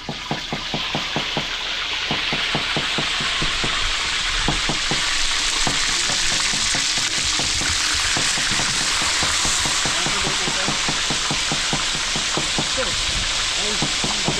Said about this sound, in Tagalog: nagpiprito na ng Nang lapu-lapu si Kuya Ingo